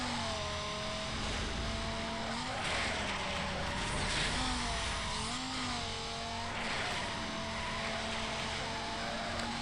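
A car drifts in the Need for Speed Most Wanted video game, its engine whining steadily while sliding tires squeal in stretches, loud and continuous throughout.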